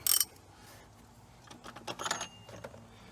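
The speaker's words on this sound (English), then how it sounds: "you use it's a 1/2 inch ratchet and extension, and you simply loosen it." A 1/2 inch ratchet with an extension loosens the oil filter on a Mercedes GLK X204 diesel, giving short clicking bursts up close with quiet gaps between them.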